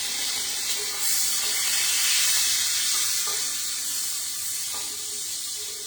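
Frozen onions sizzle steadily in a pan as the base for a risotto, a close, continuous hiss of frying and steam that swells and fades slightly, with no talking.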